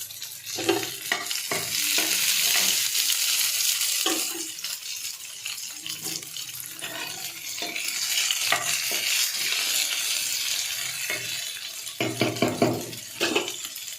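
Tomatoes and vegetables fry in a pan during home cooking of an Odia aloo dish, with a constant close sizzle under repeated scraping stirring strokes, which come in quick clusters at the start and the end.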